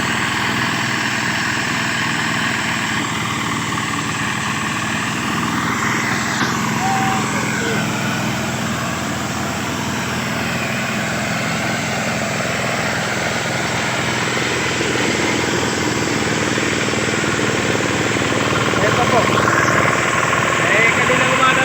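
Rice harvester engine running in a paddy field during harvest, a steady loud mechanical drone and rumble throughout, with people talking over it.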